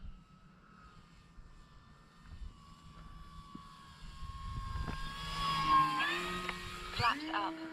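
E-flite Commander MPD 4S electric RC plane flying on its maiden flight, a steady tonal motor whine that rises and swells louder as it passes nearer, with a voice talking underneath.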